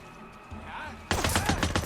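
Gunfire in the video game Days Gone erupts after a quiet second, a rapid burst of loud repeated shots that keeps going to the end.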